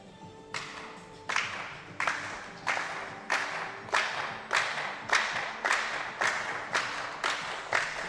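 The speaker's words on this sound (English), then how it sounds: "nice to see the crowd getting involved as well so early on in this gold medal match" Crowd at a women's 3-position rifle trio gold medal match at the 2024 European Championships in Osijek, clapping in unison roughly every 0.7 seconds, a steady rhythmic beat of sharp, fairly close claps with no voices.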